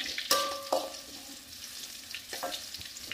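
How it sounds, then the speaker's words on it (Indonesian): Tempeh sautéing in a pan, a quiet hiss of frying with a few sharp clinks and scrapes from stirring, no voices. "Nanti tempe kita tumis setengah matang juga."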